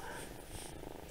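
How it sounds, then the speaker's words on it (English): A kitten purrs steadily and loudly close up, a continuous rumbling hum with no other sounds. "You can probably hear him purring."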